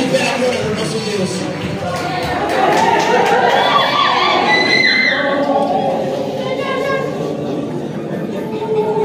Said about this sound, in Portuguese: Aplauda fortemente pela glória do nosso Deus